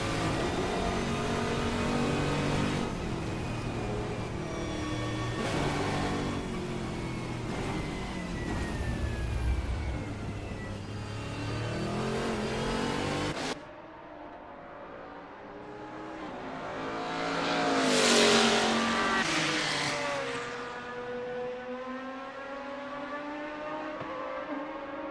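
A GT Legends race car in Assetto Corsa runs a practice out lap at Silverstone, its engine revving loudly up and down through gear changes, then dropping to a quieter, swelling drone as it passes. No talk is heard.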